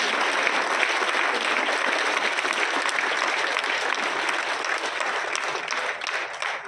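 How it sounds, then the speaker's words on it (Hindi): An auditorium crowd at a political event applauds loudly and steadily for former Union minister Ravi Shankar Prasad, a sustained, even roar of clapping that tapers slightly at the end. "जिनके लिए एक बार जोरदार तालियां बजा दीजिएगा"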